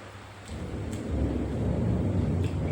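Deep thunder rolls in as a low, swelling rumble that builds after a quiet start and holds steady and fairly close, with no voices.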